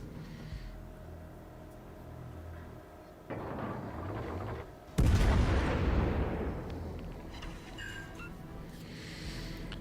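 Graf Spee's main guns firing high explosive shells in World of Warships Legends: a heavy booming blast at midpoint, preceded by a lighter thud, with rumbling battle noise continuing throughout.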